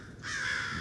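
A crow gives a single harsh, drawn-out caw, loud and clear outdoors, one of several crows harassing an owl perched in a tree.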